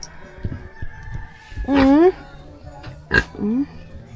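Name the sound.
pig grunting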